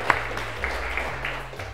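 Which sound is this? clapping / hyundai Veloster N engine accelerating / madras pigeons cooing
clapping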